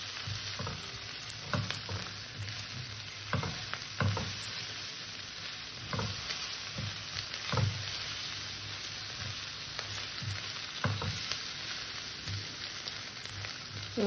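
Ground spices — ginger-garlic paste, cumin, coriander, turmeric, Kashmiri chili powder and salt — sizzle steadily in hot oil in a pan, with a constant close frying hiss broken by periodic scraping stirs of a spatula, no voices present.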